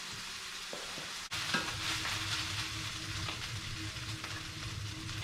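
Ramen noodles frying and charring in a pan with sesame oil, giving a steady, bright sizzle throughout. A brief clatter or stir breaks in early on, and then the sizzle carries on unbroken with no talking.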